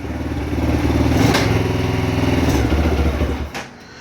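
A Lifan 125cc motor swapped into a Baja minibike, suspected of a bad clutch, revs under the throttle with a loud, close, buzzing roar that holds steady and then drops off abruptly near the end.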